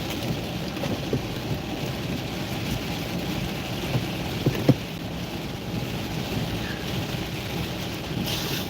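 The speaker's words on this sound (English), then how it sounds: "Look at the rain." Heavy rain pours down steadily with a dense, continuous hiss, heard from inside a moving car, broken by a few faint sharper taps.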